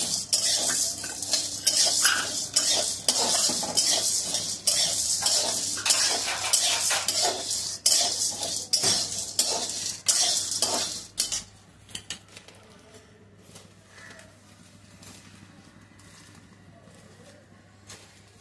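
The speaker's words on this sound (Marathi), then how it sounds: "हरभऱ्याची डाळ घेतलेली आहे भाजायला।" Chana dal is dry-roasted in a pan and stirred, giving a close, continuous scraping and rattling of spoon against metal with a light hiss; the stirring stops near the end, leaving quiet background.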